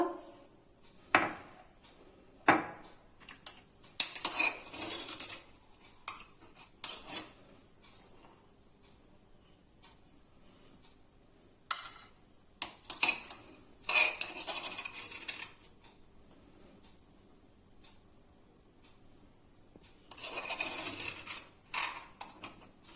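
Metal spoon scraping and clinking against a dish while scooping ginger-garlic paste with curry leaves, in short separate bursts of tapping and scraping with quiet gaps between, fairly close and not loud.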